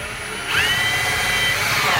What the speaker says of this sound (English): drill a hole through the frame